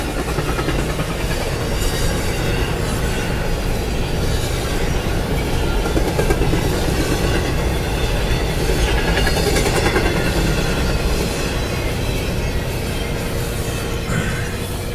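A train rumbles steadily past close by in the snow, a continuous loud roar of wheels on rails with faint rhythmic clatter throughout.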